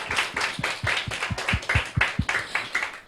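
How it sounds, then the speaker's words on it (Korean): A church audience claps together during a sermon, a short burst of brisk, fairly even handclaps sounding close and lively, with no talking over it. "한번 박수 한번 쳐볼까요?"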